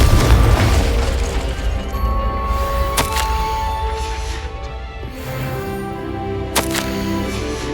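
Confringo fire spell cast in Hogwarts Legacy, a deep booming blast at the start that fades into a lingering magical ring, with sharp tonal chimes and clicks following.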